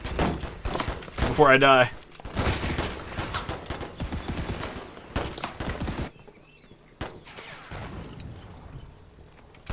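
Rifle fire crackles through a World War One battle in the game Holdfast: Frontlines, scattered shots and a dense volley popping under a voice speaking in the foreground.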